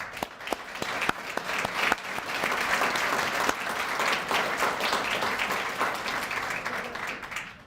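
Applause from an audience at a fire department awards ceremony, welcoming significant others; steady, dense clapping from a sizable crowd, with a few sharper nearby claps at the start, sustained throughout.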